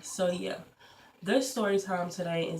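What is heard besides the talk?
No everyday noises stand out.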